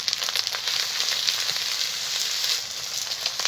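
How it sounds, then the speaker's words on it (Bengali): Garlic, ginger and cumin pastes hit hot oil for a traditional chicken curry, giving a loud, steady, unbroken sizzle and crackle that runs throughout with no voices. "প্রথমে দিয়ে দিচ্ছি রসুন বাটা, দিয়ে দেবো আদা বাটা, দিয়ে দেবো জিরে বাটা,"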